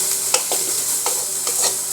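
Pork and vegetables sautéing together in a pan, steady sizzle broken by several scraping, clattering stirs of a utensil, close and loud with no talking.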